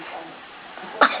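A single short sneeze bursts out near the end, brief and fairly loud, after a stretch of soft background noise.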